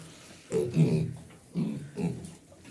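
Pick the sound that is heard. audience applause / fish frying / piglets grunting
piglets grunting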